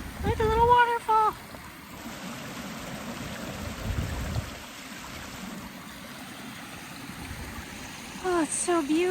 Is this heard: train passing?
no